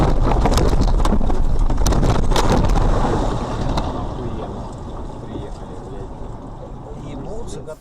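Soviet amphibious big-wheeler afloat on its Belarus-made balloon tires, with no propeller: a steady wash of water and boat noise mixed with wind buffeting the microphone, loud for the first few seconds, then settling lower.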